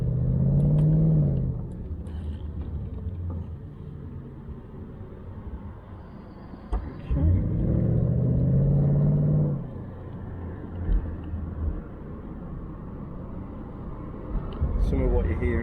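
Jaguar XK8 in sport mode cruising on the road, a steady low engine rumble and tyre roar with surrounding traffic passing, swelling in two louder surges as the car pulls, someone talking over it throughout.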